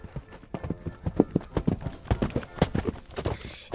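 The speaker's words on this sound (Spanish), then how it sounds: "En ese momento se oyeron los cascos de un caballo que galopaba por el camino hacia la granja." A horse gallops along a dirt road toward a farm, its hooves clip-clopping in a fast, irregular patter that stays steady and fairly close, with no voices.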